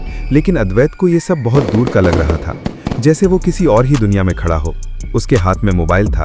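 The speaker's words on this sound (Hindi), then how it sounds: "पटाखों की आवाजें गूंज रही थीं" New Year's Eve firecrackers pop and crackle in sharp, scattered bursts in the background while someone narrates steadily over them.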